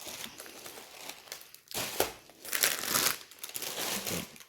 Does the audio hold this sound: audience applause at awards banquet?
no